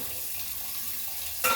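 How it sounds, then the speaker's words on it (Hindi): Water pours steadily from a tap into a cooking pot in a home kitchen, giving a short, even rush of liquid that swells louder at the very end. "इसमें भी हम डाल देते हैं पानी"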